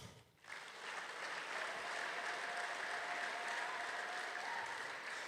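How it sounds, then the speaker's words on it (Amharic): A church congregation applauds during a sermon, with dense, sustained clapping from many people filling the room evenly from start to finish. "አጨብጭቡ።"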